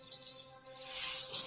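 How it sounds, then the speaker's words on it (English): Chirping bird in an audio augmented-reality game demo, a quick run of bright tweets repeating over a steady tonal hum, fairly close and moderately loud, with no speech. "So there's a real bird."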